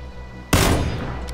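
A sudden loud burst of gunfire from PlayerUnknown's Battlegrounds cracks out after a quiet moment and rings off with a decaying tail, heard alone.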